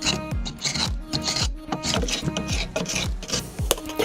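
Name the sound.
scraping off old paint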